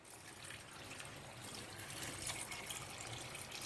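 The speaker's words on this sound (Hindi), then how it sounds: "मो एठी 2 ग्लास पानी नीची।" Water pours into a cooking pot for Odia dalma, a steady soft gushing splash that keeps going for the whole stretch and swells slightly toward the end.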